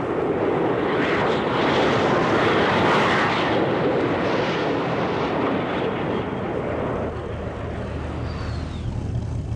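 A P-51 aircraft engine in a flight simulator game gives a loud, steady roar that swells slightly near the middle and eases toward the end, continuous and close with no voices.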